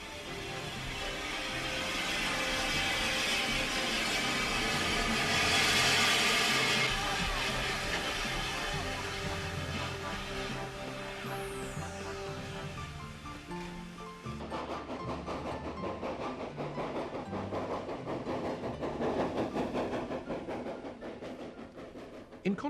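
A steam Austerity locomotive hauling vintage coaches passes with rhythmic chuffing and hissing, coaches rattling along the rails, growing louder then fading into clattering wheels.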